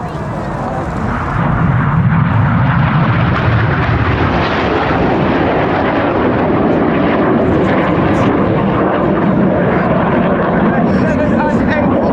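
A fighter jet performs at the Royal Air Force Cosford Airshow, producing a broad, loud roar that swells in and then holds a sustained rushing rumble. A commentator talks over the noise throughout.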